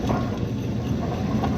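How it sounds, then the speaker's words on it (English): A dairy barn cleaner chain runs in winter, a steady loud mechanical clatter and grinding of paddles and links with a continuous low rumble, no pauses, alone without talk. "the barn cleaner turned on"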